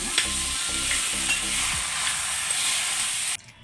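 Kerala erissery curry stirred in a hot pan, giving a loud, continuous sizzle with scraping stir strokes, close up, ending abruptly.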